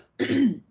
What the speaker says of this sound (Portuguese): desculpe aí a tosse